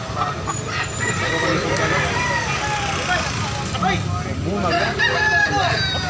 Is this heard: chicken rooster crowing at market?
yes